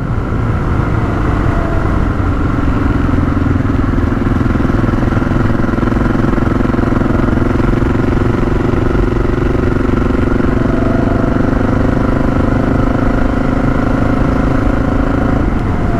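A Honda XR650L motorcycle on knobby tyres rides at a steady cruise, its engine drone and tyre roar loud and continuous throughout, with a slight pitch rise late in the run.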